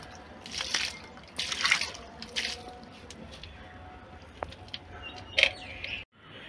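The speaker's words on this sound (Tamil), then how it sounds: "கொஞ்சம் வெல்லம் ஊற்றி விட்டா அந்த மரத்துக்கு யூஸ்ஃபுல்லாக இருக்கும்" Jaggery water soaks into the composted soil of a betel leaf plant in a homemade concrete pot, giving soft wet squishing and trickling sounds in several short bursts, close and fairly quiet, before cutting off abruptly.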